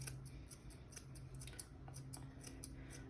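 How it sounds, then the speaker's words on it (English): Chunking shears cut down a Maltese dog's leg hair toward the ankle with rapid, crisp snips in a quick irregular rhythm, close and soft, with no voices. "I'm gonna take my chunking shears and I'm gonna cut down towards her ankle at an angle here"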